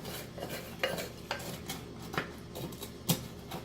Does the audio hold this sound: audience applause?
no